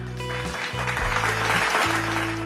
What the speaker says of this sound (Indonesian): Wah, tepuk tangan untuk Rian